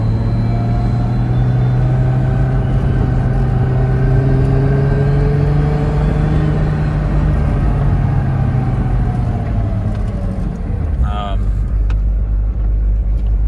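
A Toyota JZX100 fitted with a 4.3 differential cruises down the road, its engine and drivetrain giving a steady, close cabin drone with a gently shifting hum and a brief clicking near the end.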